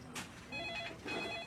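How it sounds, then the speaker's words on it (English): A telephone rings faintly in short bursts, a quiet electronic trill repeating several times in a newsroom scene. "Your phone is ringing again."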